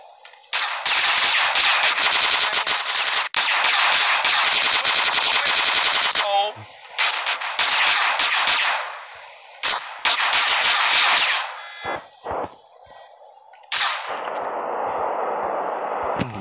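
Gunfire in GTA San Andreas, long sustained bursts of loud machine-gun fire broken by short pauses and clangs, ending with a steadier noisy rush.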